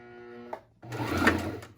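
Sewing machine stitching a fabric face mask: a short steady motor whine, a brief pause, then a louder, busier burst of rapid stitching, close up with no talking.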